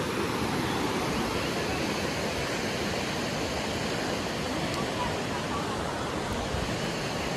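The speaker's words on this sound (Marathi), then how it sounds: "त्याचप्रमाणे वाहतं पाणी नदीतलं" River water rushes through green Konkan hills during the monsoon, a loud, unbroken roar that stays steady from start to finish.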